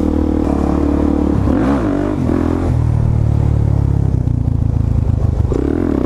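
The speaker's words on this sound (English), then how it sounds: "I swear to see someone on a dirt bike on the other side" Dirt bike engine passing on the far side of a smooth highway, its rising and falling drone blended with a loud steady road and wind roar from the moving vehicle, the pitch sweeping as it goes by.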